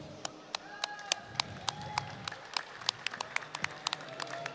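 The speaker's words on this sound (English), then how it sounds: "Another round of applause for Morocco national team," A crowd at an esports championship in Casablanca applauds the Morocco national team, scattered sharp claps ringing out in an uneven rhythm over a steady room murmur, moderately distant.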